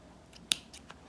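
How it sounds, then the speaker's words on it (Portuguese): Scissors snipping a single crochet thread, one sharp close click in the middle flanked by a few fainter snips, quiet surroundings without speech. "vou cortar esse fio e vou queimar"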